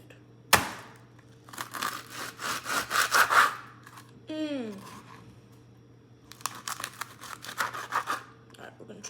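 A knife saws through a homemade Mexican pizza in repeated rasping strokes, close and moderately loud, in bursts with short pauses between.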